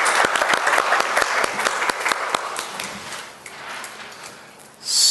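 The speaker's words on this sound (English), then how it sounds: "Let's give him a round of applause." A small audience claps for a patient after a medical interview demonstration, sharp individual claps at first, then thinning and fading out before a brief noise at the very end.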